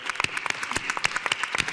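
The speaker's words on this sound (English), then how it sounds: "a round of applause for Dean Overpeck and Brittany" An audience claps steadily, many hands creating a dense patter of applause at moderate volume.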